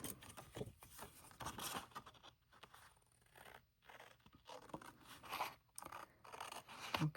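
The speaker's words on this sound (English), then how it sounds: "once this is glued down, we have a lot of excess, so we're just gonna cut that off" Paper being trimmed with scissors while making a Hawaiian-themed shadow box, producing repeated close snipping and scraping sounds in uneven bursts with brief pauses, no talking.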